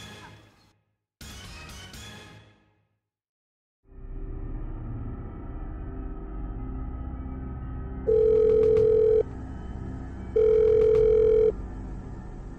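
A telephone rings in two bursts of electronic tone, each about a second long, over a steady low hum that follows a short voice at the start.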